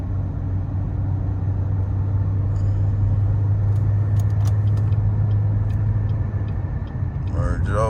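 Car driving on a road and picking up speed, a steady loud low engine and road rumble throughout with a voice talking over it.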